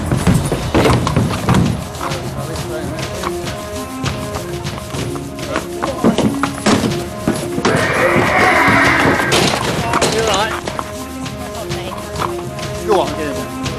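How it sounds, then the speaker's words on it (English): A racehorse being led out by a groom for loading whinnies amid clattering hooves and knocks, with people talking over and around it. "Groom Sally leads out the first horse."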